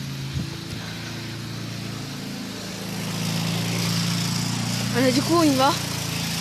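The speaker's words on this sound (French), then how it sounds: "Désolé pour le bruit de tondeuse." A lawn mower engine drones steadily nearby, growing louder midway, while someone speaks briefly over the mechanical hum.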